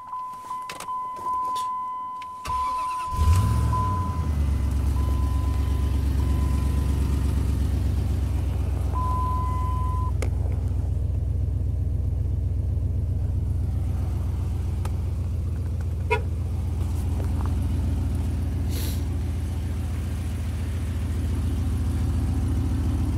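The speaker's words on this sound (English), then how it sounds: "I got the truck yesterday, so it should fire right up." A 2005 Dodge Ram 1500 pickup with a 4.7 liter Magnum engine cranks briefly and fires up, then settles into a steady, close idle with a low rumble, preceded by faint key rattling and a chime.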